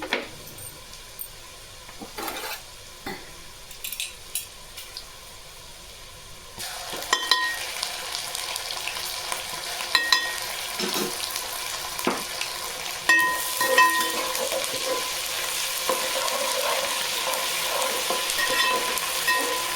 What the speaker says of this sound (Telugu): ఇప్పుడు వస్తే అల్లం వెల్లుల్లి పేస్ట్ వేస్తున్నాను.